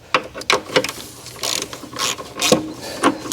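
A ratchet snugs up engine mount bolts on a 2013-2017 Honda Accord 2.4L during motor and transmission mount replacement, giving close, loud bursts of rapid clicking in short repeated strokes.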